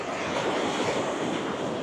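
Ocean surf rolls onto a beach at Karon, Phuket, Thailand, a steady broadband wash of breaking waves with some wind noise, continuous and fairly loud with no voices.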